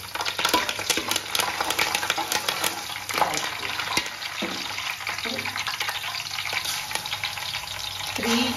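Curry leaves hit hot oil with fried onions and set off a loud, crackling sizzle that settles into steady frying, broken by occasional stirring scrapes and knocks.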